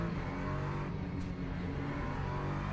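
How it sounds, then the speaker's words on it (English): Loud continuous engine roar of an LMP3 prototype racer in the Le Mans Ultimate sim at Paul Ricard, a dense steady drone with engine harmonics and no voices. "And this car is quite loud."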